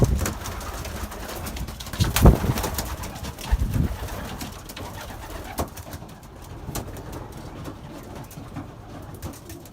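Young homing pigeons coo and flutter in a loft, with soft, low cooing calls mixed with occasional wing flaps and scuffles, fairly close and without anyone talking.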